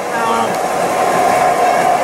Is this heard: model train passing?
yes